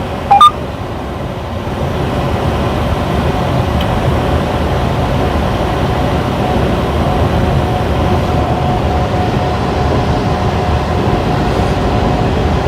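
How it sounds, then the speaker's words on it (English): An intermodal freight train passing at a distance, a steady rumbling roll that runs throughout under the engine drone of a truck cab, with a brief sharp click near the start. "there's a big old intermodal train over there."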